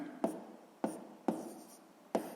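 A pen scratches math onto paper in a sixth-grade fraction exercise, four short, close, crisp strokes spaced about half a second apart against quiet.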